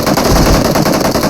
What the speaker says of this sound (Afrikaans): Ek hoor die skote.